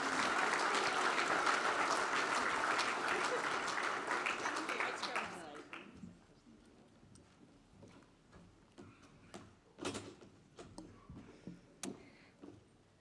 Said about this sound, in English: if we give them another big round of applause